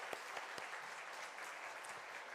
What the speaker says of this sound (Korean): 우리 서로를 위해 다시 한번 영광의 박수 돌리겠습니다.